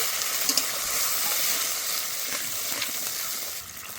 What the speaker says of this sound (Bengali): একটু মশলা ধোয়া জল আমি এখানে দিয়ে দিচ্ছি।